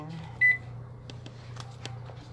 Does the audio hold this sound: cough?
no